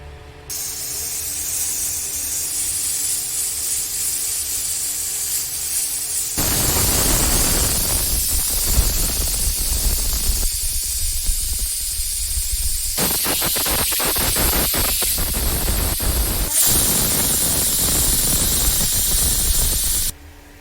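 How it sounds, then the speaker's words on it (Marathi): Steam rushes loudly from a pressure cooker cooking paneer pulao, a steady hissing jet that swells and sputters on and off for about twenty seconds, with no talking. "कुकरच्या 3 शिट्ट्या झालेल्या आहेत पहा"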